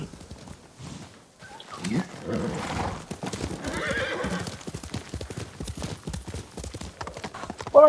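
In the video game Ghost of Tsushima, hooves clip-clop in a steady rhythm while a horse lets out a whinny, with voices murmuring alongside.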